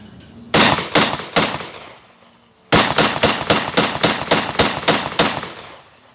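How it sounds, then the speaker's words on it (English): A World War II gun fires at a reenactment weapons demonstration: loud, close, sharp reports in two runs, a few shots, a pause, then a rapid evenly spaced string, each crack trailing off in a short echo. "That was 15 shots."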